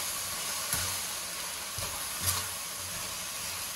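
Eggplant stir-fried with minced meat in a wok gives a steady close sizzle and hiss, with a few faint taps of the spatula against the pan.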